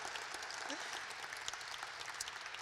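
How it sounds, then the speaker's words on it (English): Faint, distant audience applause at an evening entrepreneurs event, an even wash of many hands clapping throughout, with some voices mixed in. "Please give him a round of applause."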